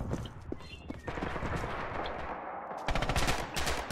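A German MG-34 machine gun in a war video game fires in sustained rattling bursts, close and loud, with a short lull and then a sharper, faster volley near the end.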